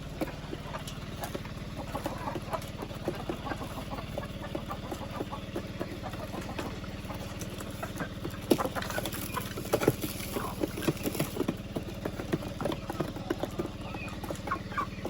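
Hens cluck softly across a Philippine farm, scattered calls rising over a steady low background hum, fairly faint and without talk.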